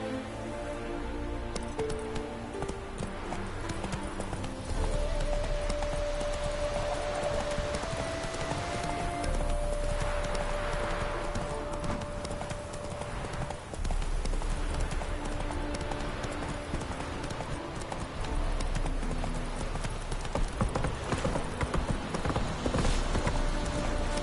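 Roach, a horse in the video game The Witcher 3, gallops with a steady clip-clop of hooves under continuous game music, loud and close throughout.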